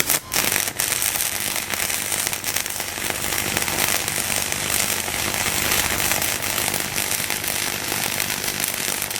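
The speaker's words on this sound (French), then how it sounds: "ça a l'air de souder quand même" Flux-core or stick arc welding on metal roller shutter slide rails, a steady loud crackling and spitting of spatter throughout, dense and continuous at close range.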